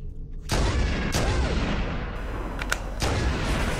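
Rapid gunfire from Halo: Combat Evolved Anniversary, loud and dense, with bursts starting at several points across the span, sharp shots over a rumbling low-end backdrop.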